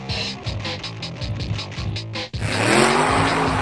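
A 2010 Chevrolet Camaro SS V8 muscle car revs loudly in rising pulses, then a sharp break leads into a hard, roaring acceleration with a harsh tire-scrub hiss, close and full.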